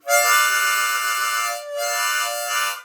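Two long, bright blues harmonica chords, rich and reedy, held close and loud with a brief dip between them, imitating a train whistle.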